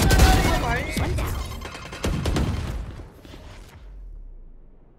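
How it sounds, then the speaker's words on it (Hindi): Gunfire in the video game Valorant: a rapid burst of loud shots up front, then a few more scattered cracks before the sound cuts out. "बंदे के सिर पे मार रहा हूँ गोलियां."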